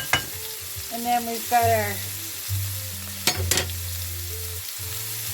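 Onions and mushrooms fry on a cooktop with a steady, close sizzle, broken by a few sharp utensil scrapes while someone talks over the cooking.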